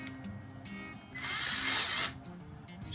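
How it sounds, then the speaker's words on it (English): A power drill fitted with a small reamer bit whirs for about a second as it cleans the edges of tuner holes in a cigar box guitar, set between quieter handling noises. "I like to just kind of clean up these holes with just a little ream bit"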